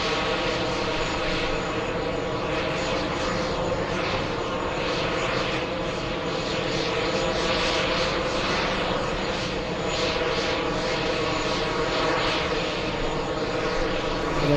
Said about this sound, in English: We have Lufthansa 401 flying back to Frankfurt